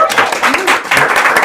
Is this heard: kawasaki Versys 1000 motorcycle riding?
no